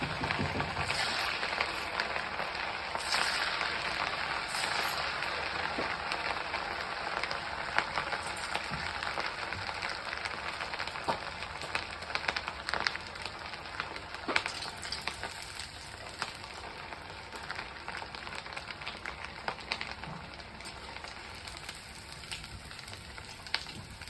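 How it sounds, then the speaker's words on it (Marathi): Vada fritters deep-frying in hot oil for a festival recipe, a steady, close, continuous sizzle with scattered crackling pops through the whole stretch, alone with no talk. "तर अगोदर हे वडे आपण तळून घेऊया तेल पण छान तापलेलं आहे"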